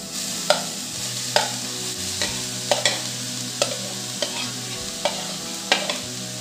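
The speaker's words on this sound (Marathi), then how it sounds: "गाजराचा किस आपण छान तुपात परतून घेऊ।" Grated carrot sautéing in ghee, a steady sizzle with regular scraping stir strokes from a spoon in the pan, close and clear, no talking.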